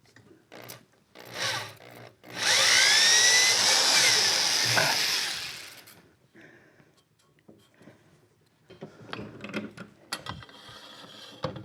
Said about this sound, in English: the reamer is very sharp. It's cutting very, very easily.